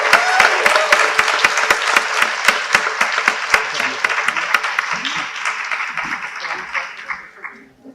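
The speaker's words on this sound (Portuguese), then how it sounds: "Vamos dar uma salva de palmas" An audience at a culture and education panel event gives a burst of applause, with loud close clapping and some sharp individual claps that thin out and fade toward the end.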